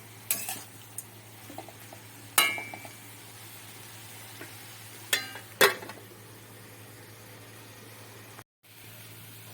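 Metal spoon stirring and clinking against a pan of bitter vegetable curry with spices, a few sharp scrapes and knocks spaced apart over a steady low hum, close and alone.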